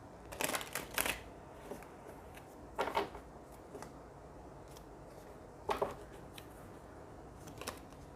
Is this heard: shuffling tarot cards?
yes